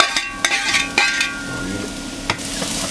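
Pieces of squash dropped into a pan of warm olive oil with fleur de sel, a soft steady sizzle under sharp clinks and scrapes as the pan is handled and stirred, close and alone.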